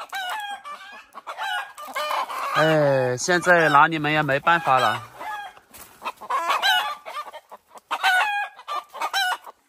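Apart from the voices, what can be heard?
chickens clucking and crowing in a coop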